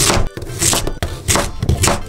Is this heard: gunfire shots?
no